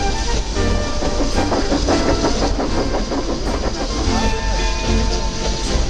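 A steam train hauled by the Flying Scotsman runs along the rails, giving a loud, close rumble with a rhythmic clickety-clack of wheels over joints and a faint hiss of the engine, continuous throughout.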